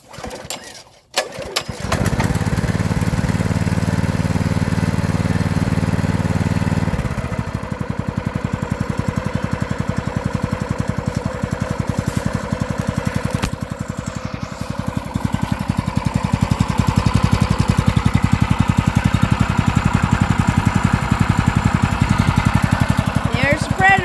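A new Predator 212 small gasoline engine fires up on a pull start after a short rattle, then settles into a loud, steady, close-up running drone that holds for the rest of the clip.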